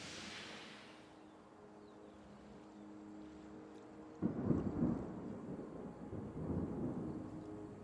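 In a city-building video game, steady rain hiss with low rumbling thunder rolling in, growing louder and fuller partway through, no voices.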